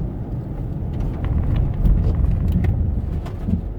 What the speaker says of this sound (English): I hear the ABS kicking in